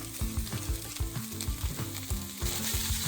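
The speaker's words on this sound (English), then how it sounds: "we're going to take the Italian sausage and we're going to start searing it" Italian sausage and mushrooms searing in olive oil in a pan give a continuous close hiss and crackle with bursts of popping and stirring noise, and no voices.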